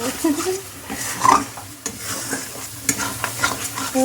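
A ground paste of cashew, poppy seed and melon seed is stirred and fried in a pan, a steady close sizzle with scraping strokes and occasional clinks of the spoon.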